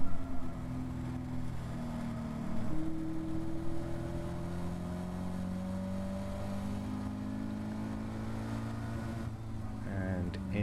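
Caterham Academy race car engine at full race pace, a steady loud drone with rising and falling pitch as gears change through corners on a crowded circuit, heard from inside the car with no talking.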